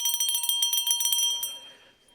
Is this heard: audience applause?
no